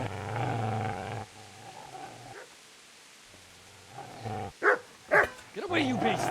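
Dogs bark and snarl in a Kingdom Come: Deliverance game scene, with sharp, loud bursts near the end following a stretch of music and a quiet gap, a voice shouting over part of it.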